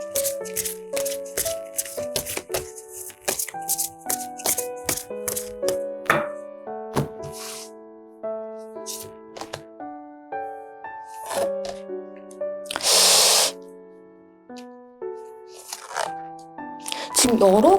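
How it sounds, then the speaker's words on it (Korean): Tarot cards being shuffled and drawn, giving quiet irregular riffles, taps and soft card slaps over soft music, with one louder burst of riffling partway through. "한번 카드 뽑아볼게요."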